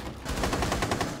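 Rapid automatic gunfire in Rainbow Six Siege, a dense burst of shots in quick succession, fairly close and loud with no talking over it.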